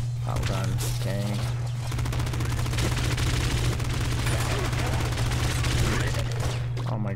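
Rapid, dense pop gun fire from the video game Nuclear Throne, a loud continuous rattle of shots over a steady low hum with game sounds, running the whole time.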